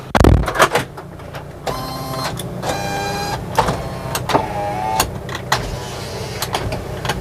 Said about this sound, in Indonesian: Oke, power window bisa semua.